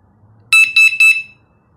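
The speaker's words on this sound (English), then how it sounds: "All right, we're gonna test the alarm now." Three loud, shrill electronic alarm chirps from a smart bike taillight sound in quick succession up close, then silence.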